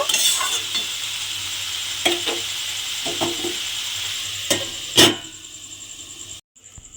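Potato and pointed gourd curry with turmeric sizzling in a pan, a steady frying hiss punctuated by a few sharp scrapes and clinks of stirring, ending with the sound abruptly cut off as a lid goes on.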